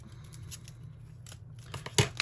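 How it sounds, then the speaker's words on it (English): Scissors snip through washi tape during craft journaling, a quiet cluster of short cuts with a sharper closing snip near the end, close to the mic with no talking. "So let me cut that off so I don't tear it."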